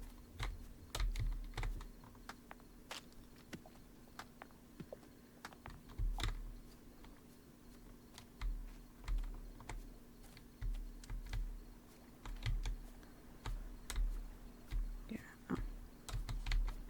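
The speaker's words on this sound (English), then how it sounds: "my mic is picking up all of the clickety-clackities of my keyboard" Computer keyboard typing fills the stretch with rapid irregular clicks in bursts, close to the microphone and moderately loud, with a steady low hum underneath and no talking.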